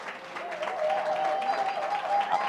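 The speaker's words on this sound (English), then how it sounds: "give all the guests stand up and give them a round of applause" Brief burst of applause from a seated audience honoring guests at a business presentation, fairly dense clapping with a tonal hum running beneath it.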